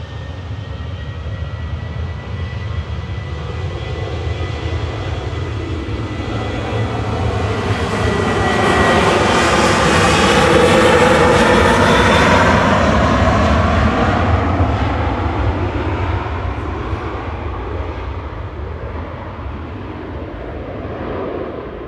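Ryanair Boeing 737-800, registration EI-GSJ, departing Manchester Airport on flight 1175 to Porto, engine roar building to a loud close pass with sweeping tonal whine, then easing away.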